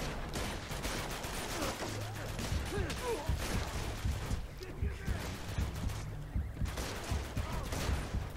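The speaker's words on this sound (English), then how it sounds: "who's shooting me?" Gunfire in the video game Uncharted 2 rattles at the player as a steady, dense stream of shots over a constant rumbling background, with a voice talking faintly underneath.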